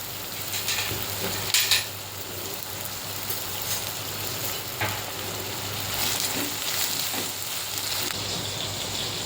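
Three finely chopped onions sauté in a pan for a mackerel pickle, giving a steady, fairly close sizzling hiss with a few faint stirring scrapes and no talking.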